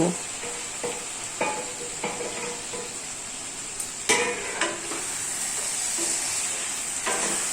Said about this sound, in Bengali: এরপর আমরা দিয়ে দেব ভেজে রাখা আলু আর মাংস।